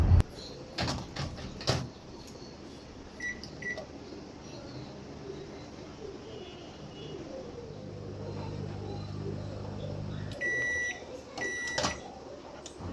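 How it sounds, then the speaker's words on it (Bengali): A microwave oven running for about a minute to bake a whisked egg mixture in a mug, giving a steady low hum over a quiet kitchen, with a few clicks and a short beeping at the end. "এরপর মাইক্রোওয়েভে 1 মিনিটের জন্য বেক হতে দিব।"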